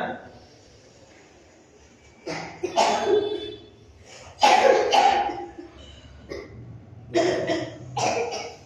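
Several people cough in a yoga class. Harsh, separate bursts come in clusters after a quiet opening, some close and loud, others rougher and throaty.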